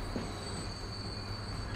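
A train in Transport Fever 2 waiting just outside a station, a steady mechanical hum with a faint high whine and low rumble, moderately loud and unbroken.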